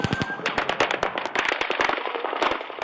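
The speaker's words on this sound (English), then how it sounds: "But the rapid gunshots kept coming." Rapid bursts of gunfire during the Las Vegas concert mass shooting, loud sharp cracks in quick irregular volleys, fired close together without pause.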